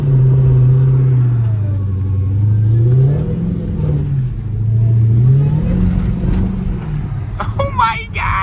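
A powerful Hellcat engine revs up and down in rising and falling sweeps, loud and close, as the car speeds up during a lightning storm, with a voice briefly at the end.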